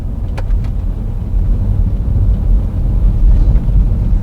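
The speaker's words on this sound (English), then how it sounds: "I'm like flooring the accelerator pedal right now" An Audi Q7 stuck in limp mode with a turbocharger underboost fault labours under full throttle, producing a heavy, steady low engine drone heard from inside with little sign of the revs climbing.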